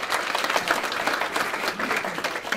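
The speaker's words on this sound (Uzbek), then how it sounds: "zalda qizg'in olqish yangradi" Warm, sustained applause from a large audience fills a hall at an honorary evening event, a dense, even roar of many hands clapping without a break.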